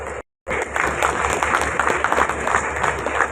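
Audience applause fills a room after a property workshop session, starting abruptly after a brief silence and continuing as dense, steady clapping from a large crowd close by.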